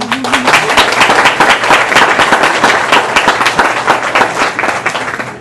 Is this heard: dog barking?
no